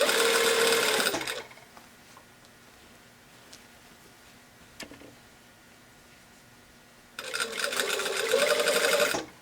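A sewing machine sews a garment sleeve into its lining in two loud close runs, one at the start and one at the end, with a quiet stretch of faint handling between them.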